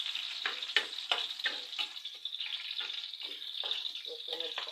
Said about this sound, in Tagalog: Gisa ko na ang sibuyas,